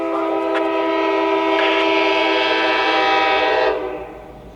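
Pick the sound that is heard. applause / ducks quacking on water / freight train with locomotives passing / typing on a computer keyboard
freight train with locomotives passing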